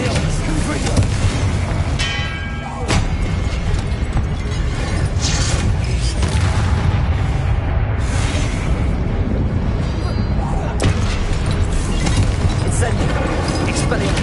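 Confringo spell blasts burst in Hogwarts Legacy, a dense, loud run of booming explosions with repeated sharp onsets over a constant roaring wash of noise.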